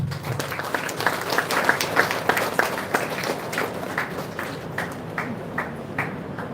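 A round of applause in an engineering college conference hall, many hands clapping at moderate loudness that continues steadily for several seconds before trailing off.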